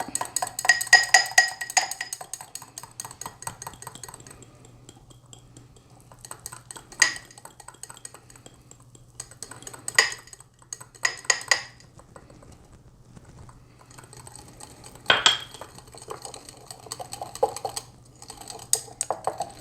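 A spoon scrapes and clinks against a pot as baking soda and cornstarch are stirred into a homemade natural deodorant mixture, giving irregular bursts of light metallic tapping and scraping separated by short quiet pauses.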